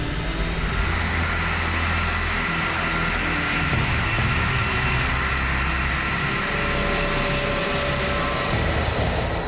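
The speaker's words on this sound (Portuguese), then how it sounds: "Impulsionado por suas 3 turbinas, o avião percorre a pista de decolagem." Jet engines roar steadily and loudly throughout, a dense continuous rumble with a high whine, as a three-engine airliner powers along the runway on its takeoff roll.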